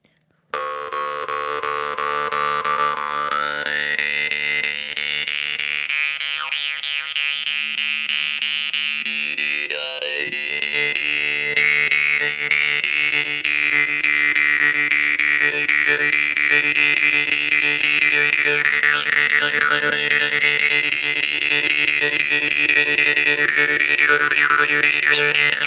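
A monop jaw harp, a metal mouth harp, plays continuously with a steady drone under shifting, shimmering overtones that brighten and swell as the instrument warms up; close and loud, with no voices.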